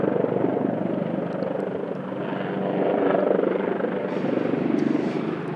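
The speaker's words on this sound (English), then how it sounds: "the helicopter's definitely rescuing someone" A Mountain Rescue helicopter passes overhead in an outdoor landscape, its steady rotor thrum loud and continuous throughout, swelling slightly midway with no voices.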